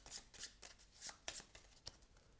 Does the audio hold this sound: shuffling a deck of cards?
yes